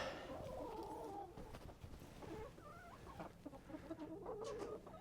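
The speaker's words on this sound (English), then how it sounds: "Here's our chicken house, plumb full of chickens." Many chickens cluck and squawk together in a busy chorus, close by, with scattered rustling and overlapping calls.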